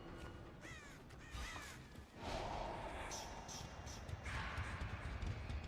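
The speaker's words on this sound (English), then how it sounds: "I just saw a crow." A crow caws several times in a row in the video game Dead by Daylight, set over a dense, steady outdoor ambience with no talk.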